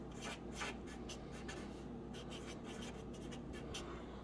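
Chalk or marker scratches across a board in quick, close strokes as compass directions are written, a busy rhythm of short scrapes under faint room noise.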